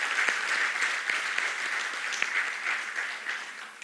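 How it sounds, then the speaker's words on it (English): An audience at a groundbreaking ceremony for a new industrial unit gives sustained, even applause with dense clapping at moderate volume and no voices. "I think they deserve a big round of applause."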